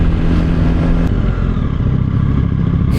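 A Yamaha R9 motorcycle on a ride revs hard up close, its engine note climbing and then breaking into a rough, clattering roar with wind noise.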